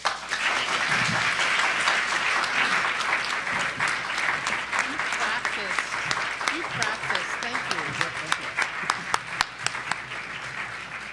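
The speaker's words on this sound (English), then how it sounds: "please join me in a warm round of applause for all of these artists and their exciting work" An opera conference audience applauds the director-designer showcase artists, a dense, sustained round of clapping with sharper individual claps standing out toward the end.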